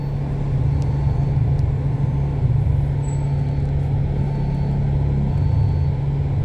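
Traffic stands still in a Hong Kong jam: a constant, close engine idle hums steadily, with a low rumble and no pauses throughout.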